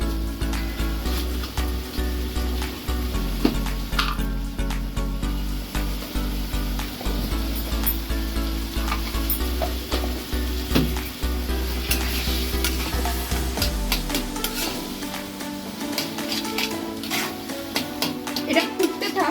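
Dubki aloo, a potato curry, sautés with water and salt in a pan, giving a loud, continuous close sizzle broken by scraping stirs and spatula clinks.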